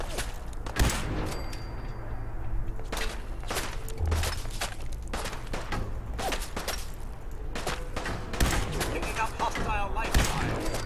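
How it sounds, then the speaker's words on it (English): Sustained gunfire crackles through a Fallout 4 firefight, with rapid overlapping shots, sharp cracks and thuds, and dense bursts that carry on without a break over a low rumbling game background. "They're still shooting at me?"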